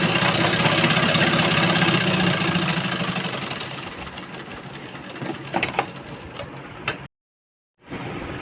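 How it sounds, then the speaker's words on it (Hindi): A sewing machine double-stitches the waistline belt of a blouse, its steady mechanical whir running for about seven seconds, cutting out briefly, then starting up again. "डबल डबल सिलाई मार देंगे ताकि ये हमारा"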